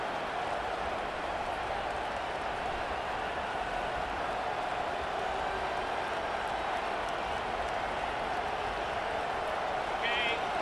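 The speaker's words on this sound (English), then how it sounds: "It is getting loud as this crowd tries to help its defense." Stadium crowd in the college football video game College Football 25, a steady, dense roar that stays loud throughout, with a broadcast commentator's voice talking over it.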